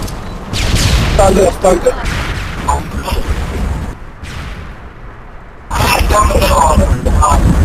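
Dense video-game gunfire during a competitive match: sustained loud bursts of shots and booming impacts that drop off briefly in the middle and then return at full intensity, with a voice speaking over the fighting.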